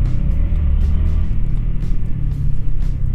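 Road traffic rumbles with a low continuous engine drone, as cars idle and move nearby. The sound is loud and steady, with no voices.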